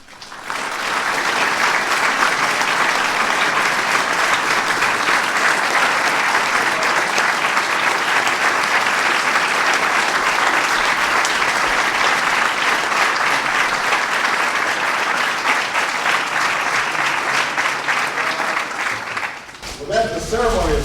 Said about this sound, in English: stand up and give these recipients a big round of applause